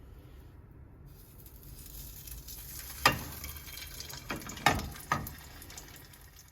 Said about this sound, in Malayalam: ഓക്കെ, ഇനി നമുക്കിത് ഓയിലിലേക്ക് ഇട്ട് കൊടുക്കാം.